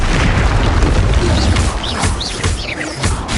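A Confringo blasting spell detonating in Hogwarts Legacy, loud booming bursts with a crackling spray and brief chirpy sparkles, close and with no talking.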